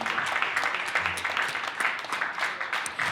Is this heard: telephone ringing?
no